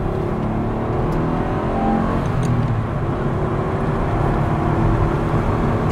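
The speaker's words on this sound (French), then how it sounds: "t'entends plus le moteur que l'échappement" Mazda MX-3 with its small V6 engine driving along, a steady loud in-cabin drone of engine and exhaust with road rumble, continuous and without talk.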